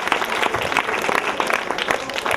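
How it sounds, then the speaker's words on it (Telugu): Audience applause at a 25th silver jubilee village celebration in Nulakapeta, a dense steady patter of many hands clapping together, loud and continuous throughout with no break. "గట్టిగా చప్పట్లు"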